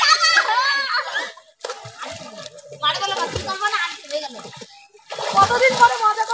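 Several people splash and slosh about while bathing together in a village pond, with water noise in bursts, children's voices and laughter mixed in, and talk running over much of it.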